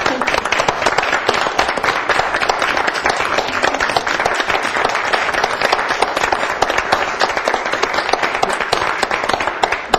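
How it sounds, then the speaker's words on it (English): A school board meeting audience applauds, dense sustained clapping from many hands filling the room at steady loudness throughout, with no speech over it. "I notice every time I leave a job, people stand up and clap."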